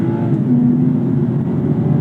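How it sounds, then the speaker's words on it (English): A BMW G42 M240i engine pulls hard at full throttle, a loud, close, sustained low growl with a steady rising drone and no speech over it. "Oh, this engine is so much quicker, so much more character, better sound, less turbo lag, better power delivery."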